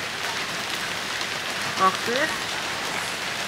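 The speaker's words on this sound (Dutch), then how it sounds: "we zijn maar even naar binnen gegaan, want het regent weer zo hard" Heavy rain pours down during a violent storm at Lake Garda, a dense, steady hiss of drops on surfaces throughout, with one short spoken word rising briefly above it midway.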